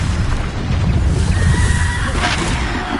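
A loud Bombarda blasting-spell explosion in the Hogwarts Legacy game on PS5: a dense, rumbling roar that holds steady for the whole stretch, with a brief brighter burst near the end.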